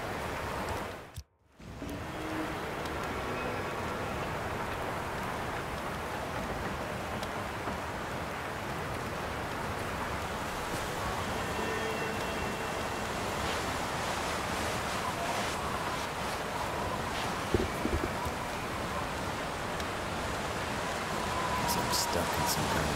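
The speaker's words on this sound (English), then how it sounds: "Some shelter from this wind." Steady, roaring wind sweeps across an open wilderness in the survival game The Long Dark, a loud continuous broadband rush with slight swells and a brief dropout near the start.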